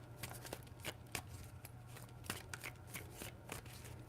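Quiet, close tarot card shuffling: a run of soft, crisp riffles and snaps in irregular bursts over a low steady hum, with no talking.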